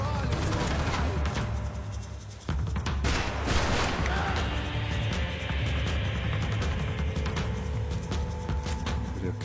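Video game gunfire crackles in rapid bursts and single shots over a busy background of explosions and effects, loud and continuous throughout.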